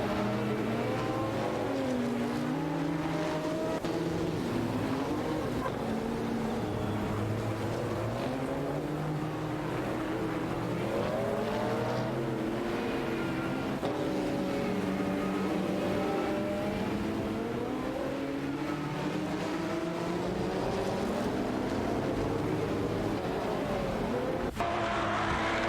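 Race cars, including a Peugeot 905 and a Mercedes-Benz, battle closely in an AI-driven racing video game. Several high-revving engine notes rise and fall continuously as the cars shift and overlap, with no voices over them.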